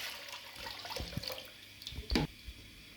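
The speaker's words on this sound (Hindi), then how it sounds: "और इस देचकी में हम डालेंगे दूध।" Milk poured into a cooking pot on the stove while making a sweet Eid dessert, a short liquid splash and gurgle with a brief louder burst near the end.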